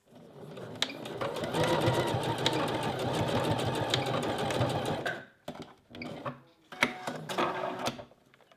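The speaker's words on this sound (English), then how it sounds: "just sew a row of straight stitches across the width of the elastic just to secure that in place" A sewing machine runs steadily, stitching straight rows across the width of strap elastic for about five seconds. Shorter bursts of stitching and handling clicks follow.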